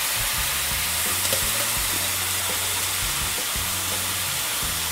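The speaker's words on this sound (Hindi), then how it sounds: "अच्छी तरह हो जाने के बाद अब हम इसमें बॉल किए हुए छोटे आलू डाल देंगे।" Four small balled potatoes dropped into a hot pan of oil, giving a steady loud sizzle and hiss of frying that fills the whole stretch, alone without talk.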